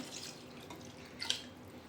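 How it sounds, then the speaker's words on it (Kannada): A glass of water is poured into a pot of Mandya-style country chicken curry, making a soft, faint splash and trickle that briefly swells near the end, with no talking. "ಸೊ ಇನ್ನೊಂದು ಗ್ಲಾಸ್ ನೀರು ಹಾಕೊತಾ ಇದ್ದೀನಿ"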